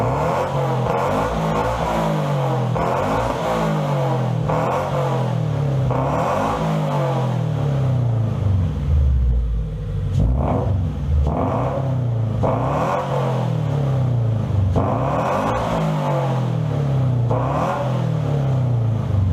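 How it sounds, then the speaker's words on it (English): A Scion FR-S with Borla headers revs repeatedly, each throttle blip rising and falling in pitch in a regular rhythm of about a dozen pulls, close and loud with a rumbling idle between, no talking. "I don't know if you heard a different tone or pitch of the muffler when I was revving it."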